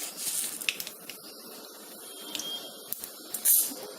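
Mustard seeds sizzle and pop in a little hot oil in a pan, a dense steady hiss close up with scattered sharp crackles throughout.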